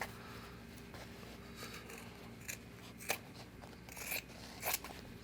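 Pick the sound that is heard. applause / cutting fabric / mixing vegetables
cutting fabric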